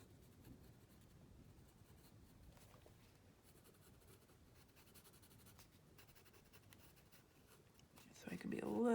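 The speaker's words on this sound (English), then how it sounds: "Grab my black colored pencil." A black colored pencil scratches steadily across a paper page, a faint, close, continuous scribbling that runs for several seconds before a brief louder voice cuts in at the end.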